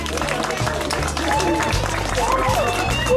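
Guests at a Haitian wedding in Chile applaud the newly presented couple, with continuous clapping blended with low music and crowd voices.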